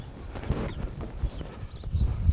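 Horse hooves clip-clop at a walking pace on a ranch, as a series of soft, muffled thuds close by with no talking.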